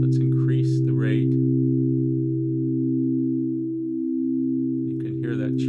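An additive synthesizer holds a steady stack of pure tones, with a slow wobble from the raised LFO rate, and someone talks briefly at the start and end.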